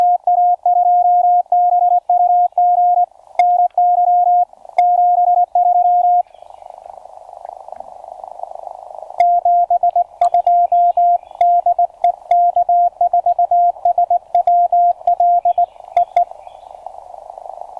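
Steady ham radio tones keyed in rapid on-off bursts, Morse signals from a contest station heard in the background in a park, with a brief stretch of hissy static in the middle.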